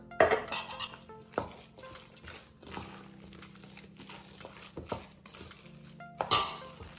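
Meatloaf mixture with evaporated milk being stirred in a bowl, soft irregular clinks and scrapes of a utensil against the dish with quiet wet mixing between, fairly faint and close.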